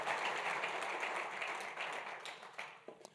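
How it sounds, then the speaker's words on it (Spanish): A congregation of pastors at a men's church retreat gives steady, broad applause that fades out over a few seconds and ends with a few last scattered claps. "démosle un aplauso al Señor"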